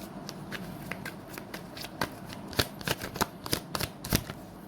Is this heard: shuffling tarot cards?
yes